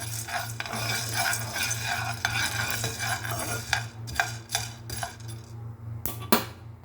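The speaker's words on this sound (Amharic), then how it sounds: "ይኸው ቡናው እየበሰለ ነው፣ ግን እሳቱን በትንሽ አድርጌው ነው" Coffee beans roast in a pan over a low flame, stirred with a scraping, rattling rhythm of repeated strokes under a soft sizzle, close and fairly loud, with no voices.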